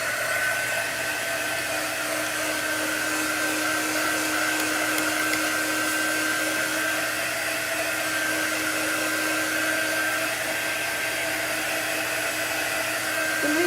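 A hair dryer blows steadily and loudly for the whole stretch to dry chalk paint on a patriotic-themed home craft piece, a constant rushing whir with a faint steady whine and no pauses or talk.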